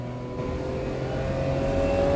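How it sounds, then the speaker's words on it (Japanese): A car engine revs with a steady, building hum that rises slightly in pitch and loudness, heard alone at moderate distance. "車が鳴いてる。"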